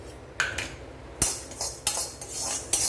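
Raw rice dry-roasting in a pan while being stirred, with a utensil scraping and clinking against the metal in several separate strokes, close and clear, with no talking.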